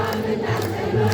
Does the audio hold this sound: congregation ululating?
yes